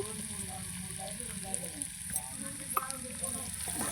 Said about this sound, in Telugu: చక్కగా ఆయిల్లో వేయించుకొని